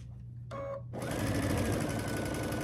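A sewing machine stitches quilt block sections together for a Churn Dash block. After a brief, softer lead-in, the close, loud, steady motor whir runs without a break.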